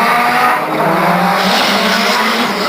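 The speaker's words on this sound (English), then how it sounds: "Kicking the clutch right there. Initiating the drift, coming around." Drift cars at a D1GP All Stars 2006 drift event scream through a long, loud, continuous tire squeal over roaring engines, holding steady for the whole stretch.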